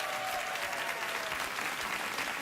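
A late-night talk show studio audience applauds steadily, a dense, even wash of clapping that holds at one level throughout with no voices over it.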